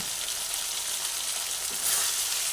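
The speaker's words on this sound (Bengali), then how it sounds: "চিনিটা দেওয়ার পরে আবার একটু ভালোভাবে নাড়াচাড়া করলাম সুন্দরভাবে কষিয়ে নিলাম" Eggplant kofta curry masala sautéing in a pan with a little sugar added, giving a steady close sizzle and frying hiss with faint stirring throughout, no voices.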